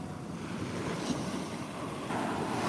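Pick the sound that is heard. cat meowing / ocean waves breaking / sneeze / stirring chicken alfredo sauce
ocean waves breaking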